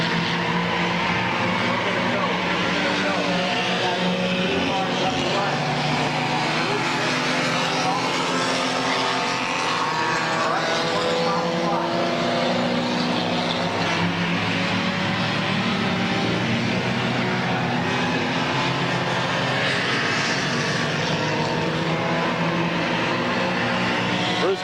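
Race cars roar continuously around Midvale Speedway, a loud sustained engine drone with shifting pitch as the pack laps, while an announcer talks over it.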